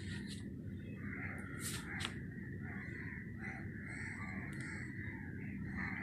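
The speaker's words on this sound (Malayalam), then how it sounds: "കാക്കയൊക്കെ കരയാൻ തുടങ്ങിയിട്ടുണ്ട്" Crows cawing at sunrise, several harsh repeated caws rising over a steady low background rumble, fairly near and clear, with no one speaking.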